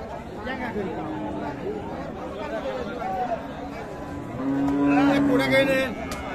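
Steady crowd chatter and livestock noise fill a cattle market, with one longer, louder low moo from a dairy cow rising near the end.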